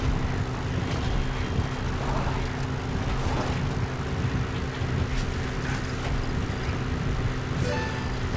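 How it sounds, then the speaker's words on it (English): A helicopter's rotor and engine drone steadily, loud and continuous, without voices, as a support helicopter arrives in the video game Metal Gear Solid V: The Phantom Pain. "Support helicopter requested."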